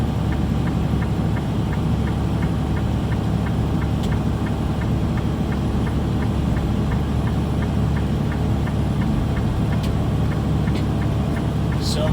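Heavy truck engine pulling hard up a mountain grade on the Fancy Gap road in 10th gear at just under 50 mph, a steady loud drone with road rumble throughout.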